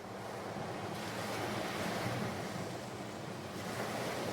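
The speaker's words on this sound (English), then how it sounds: "waves." Continuous ocean surf washes against a shore, a steady broadband roar with gentle swells in intensity, mixed with some wind noise and no voices.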